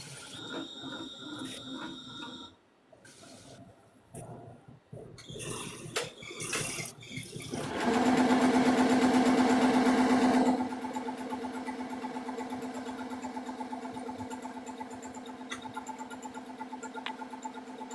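A sewing machine stitches words onto a webbing key fob in bursts of fast mechanical whirring and clatter, then settles into a long steady droning run.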